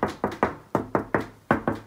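Knuckles rap on a heavy, solid 44 mm interior fire door, about eight firm knocks in an uneven rhythm, close and clear with no talking.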